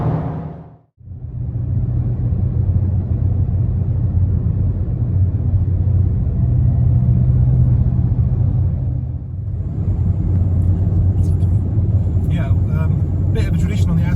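A 2025 Volkswagen Golf GTI Mk8.5 cruises along the Autobahn, a steady loud low rumble of engine and road noise filling the cabin from near, easing briefly and then resuming.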